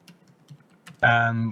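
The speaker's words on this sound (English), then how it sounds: "Whoever's typing at the moment." Faint, scattered tapping on a computer keyboard during a committee meeting, soft irregular keystrokes for about a second before a voice starts talking over it.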